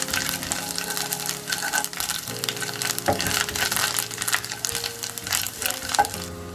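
Chopped ginger, coriander leaves and chillies fry in a pan with a loud, dense sizzle, mixed with scraping stirring sounds and a low steady hum, up close.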